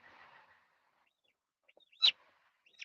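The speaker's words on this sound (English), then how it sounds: "So these are little geese." Young goslings give a few faint, scattered peeping calls with one sharper, louder call in the middle, heard after a soft murmur of voices at the start.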